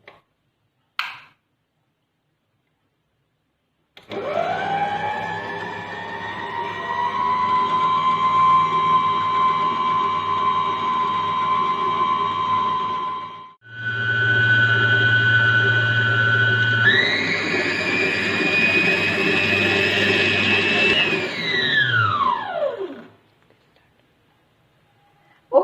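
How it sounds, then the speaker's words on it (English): An electric hand mixer whirs steadily while beating half a cup of cream for a birthday fruit cake, running loud and continuous with one brief stop and a change in pitch before it winds down. "We are going to need half cup of cream and we are going to start beating it now."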